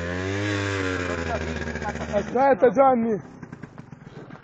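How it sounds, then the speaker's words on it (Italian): A motorcycle engine revving up and down close by in an outdoor wheelchair show stunt, with several sharp throttle bursts mixed under excited Italian voices calling out. "Mi attacco alla moto del Johnny."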